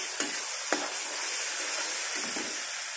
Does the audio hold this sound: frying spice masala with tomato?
yes